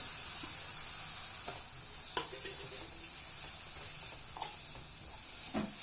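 An egg drops into a hot pan already holding chilli and soy sauce for homemade beef fried rice, giving a steady, close sizzle with a few sharp clicks and scrapes and no talking.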